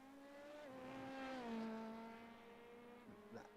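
A simulated LMP2 race car engine from the iRacing game at Le Mans drones at sustained revs, pitch easing down and shifting, heard faintly and steadily throughout with no talk over it.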